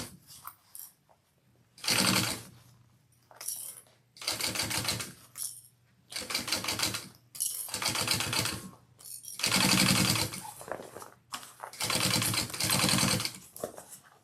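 A sewing machine stitches a crossbody bag in a series of loud, close bursts of rapid mechanical whirring, each run lasting about a second or more, separated by short pauses.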